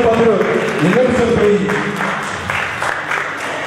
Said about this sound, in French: Applaudissez pour ce jeune patriote